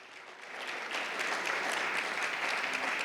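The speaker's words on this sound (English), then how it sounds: "let's give him another round of applause." Audience applause at a health expo and diabetes conference held in a high school, steady sustained clapping from a sizable crowd, building over the first second and then holding loud and even.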